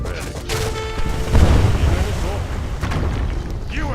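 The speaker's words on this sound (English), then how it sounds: "5 mortar shells straight off right onto it" Five mortar shells slam onto a fountain in an Age of Empires 3 campaign battle, a loud burst of rumbling booms that swells midway and keeps rolling, with a faint voice underneath.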